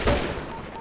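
A quick burst of gunfire in a GTA roleplay video game, a short rattle of several shots at moderate loudness, heard alone without speech.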